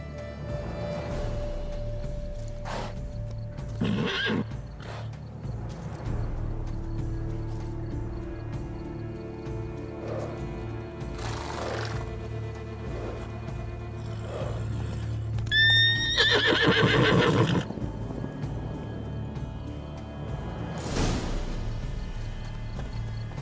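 Roach, the horse in The Witcher 3: Blood and Wine, gives a loud, whinnying neigh with clip-clopping hooves, set among quieter game ambience and shorter snorts.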